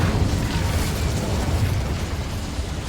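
The Incendio fire spell is cast in the video game Hogwarts Legacy: a loud, dense fiery roar bursts out and rumbles on steadily for about three seconds, with no voices.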